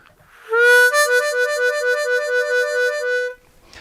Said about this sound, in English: the warble, which is one of the quickest ways to sound super bluesy on the harmonica.